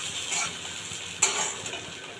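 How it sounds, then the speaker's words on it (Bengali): Fried fish is slipped into a boiling sour mango curry, giving a low steady bubbling simmer with a brief clatter of a utensil in the pot midway. "এইদিকে যে আমটা ফুটছে, এর মধ্যে আমি এই মাছ ভাজাটা দিয়ে দেবো।"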